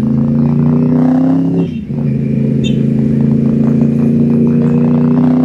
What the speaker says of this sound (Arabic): ان انت بتسوق موتوسيكل زي الياماها الR1 ده، موتوسيكل قوي